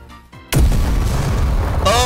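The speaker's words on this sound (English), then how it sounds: "let's try the Kaiser ability again" The Kaiser ability effect in a football video game comes in as a sudden loud boom after a quieter opening. It holds as a heavy, rumbling roar, and a short tonal flourish rises near the end.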